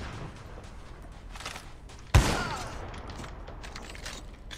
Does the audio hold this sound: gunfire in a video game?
yes